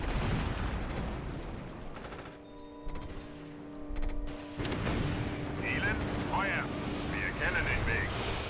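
Artillery fire in Axis & Allies during the Battle of Kursk, heavy booming shots and rumbling impacts over a busy battlefield, easing briefly and then returning with sharper bursts, as a voice talks alongside.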